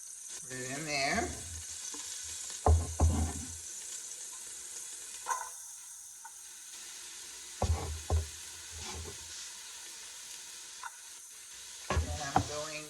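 Diced onions sizzling in a pan, a steady quiet frying hiss throughout with occasional louder clatters of stirring and a faint voice early on.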